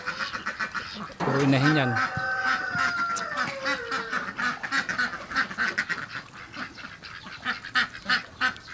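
Pekin ducks quacking loudly nearby at water, a burst of honking calls followed by repeated quacks, while a person talks over the flock.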